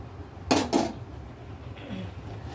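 A metal lid clanks twice onto a cooking pot on the stove, two sharp nearby clatters in quick succession, then soft rattles and quiet kitchen ambience.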